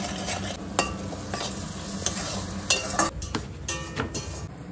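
Food stirred in hot oil in a pan, with a steady sizzle under irregular scraping and a few sharp clinks of a utensil against the pan, close by with no talking.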